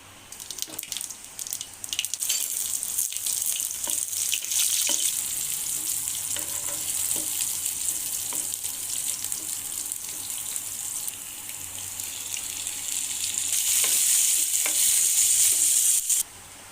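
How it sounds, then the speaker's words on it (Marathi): Cumin, mustard seeds, onion and tomato sautéing in a hot pan for a peanut amti, a steady close sizzle with intermittent scraping stirs, growing louder and brighter toward the end. "यामध्ये जिरे तसेच मोहरी आणि कांदा टमाटा टाकून परतवून घ्यायचा आहे"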